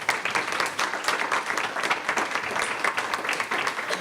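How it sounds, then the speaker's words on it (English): A conference audience applauds its panelists with steady, dense clapping that holds at an even level for the full few seconds, with no speech over it. "Let's have a round of applause for our panelists."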